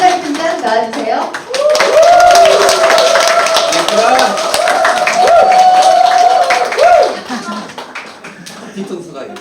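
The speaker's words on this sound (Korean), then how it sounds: "제가 우리 채나리 팀장 힘찬 박수로 환영합니다 라고 하시면 여러분 어떻게 해야 돼요?" Enthusiastic audience applause with whistles and cheering voices at a business presentation, sustained for several seconds before tapering off as the crowd quiets.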